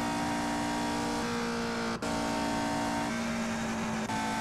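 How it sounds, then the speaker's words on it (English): A 1963 Indy car's Offenhauser engine in a racing video game drones at high, steady revs, its pitch dropping briefly at a couple of quick gear changes. "it seems like the Offenhauser engine doing a good job of maintaining everything"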